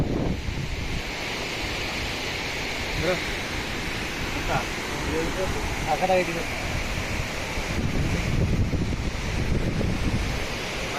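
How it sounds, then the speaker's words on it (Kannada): Water plunging down Jog Falls makes a steady, loud, unbroken roar that fills the whole stretch, with faint voices now and then underneath. "ನೀರು ಎಷ್ಟು ಫೋರ್ಸ ಬೀಳ್ತಲ್ಲ"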